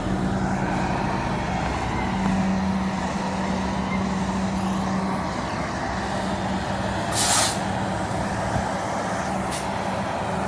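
A public transit bus pulls in at a stop in Oregon, its diesel engine rumbling steadily and close with a droning hum, then a sharp burst of air-brake hiss near the end followed by a shorter second release.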